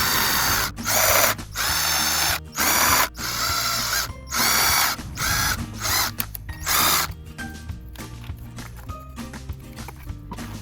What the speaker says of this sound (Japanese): ドリルの刃を面取り用のフリードリルに変えてバリを取っておきます。